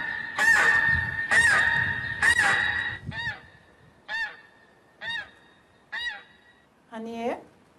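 Geese honk in a loud, close series, three strong overlapping calls followed by four shorter evenly spaced honks and a final rougher call, with no talk.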